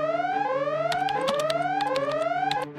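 A cartoon alarm rings out in Paw Patrol: a loud, steady electronic siren of repeated rising tone sweeps, running on its own without speech.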